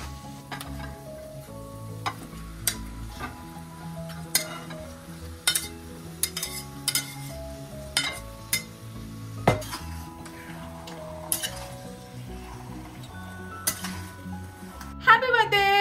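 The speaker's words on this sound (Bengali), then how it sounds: "কালকে রাতে যে মাটনটা ম্যারিনেট করে রেখেছিলাম ওটা এবার মিক্স করব" Marinated mutton being stirred into softened frying onions in a pan, a continuous close sizzle broken by frequent clinks and scrapes of a spoon on metal.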